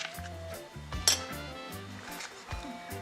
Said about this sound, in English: So I'm going to get a bowl like this.